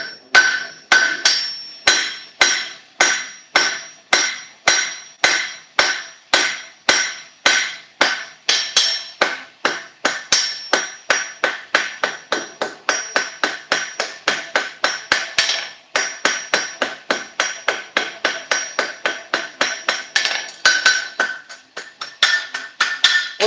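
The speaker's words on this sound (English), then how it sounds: "Once I get a little heat built up in the anvil, this will go a lot quicker." A hammer rings again and again on hot metal over an anvil at a blacksmith's forge, sharp close strikes in a fast, steady rhythm that keeps going without pause.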